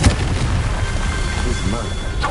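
The Confringo blast spell is cast in Hogwarts Legacy. A loud fiery burst hits at the very start, then a rumbling, crackling roar carries on for the rest of the brief moment.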